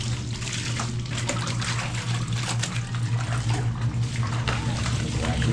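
Water poured steadily into a cooking pot, a continuous close splashing rush that lasts the whole stretch without a break.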